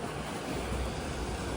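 Wake waves from the Waverley paddle steamer wash ashore near a tent, a broad, steady surging rush of surf and water close by with wind noise, no voices.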